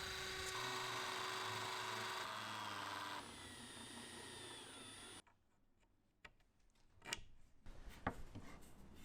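A drill fitted with a countersink bit bores pilot holes into wooden furring strips for a Ram ProMaster van conversion, a steady high whine that shifts pitch midway, then cuts off into scattered clicks and light knocks.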